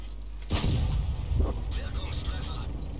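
A heavy gunshot boom in a multiplayer battle video game, one loud blast with a lingering rumble, followed by a second thud and some clattering mechanical noise, with voices in the background.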